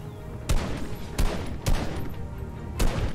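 Gunfire in the video game Fortnite: four loud, punchy shots land at uneven intervals over a low rumbling game soundscape, with no talking.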